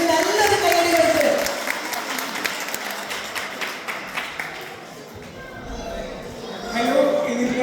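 Audience applause at a stage gathering for a Margamkali performance, dense clapping from a crowd with voices talking over it, fading slightly midway then swelling again.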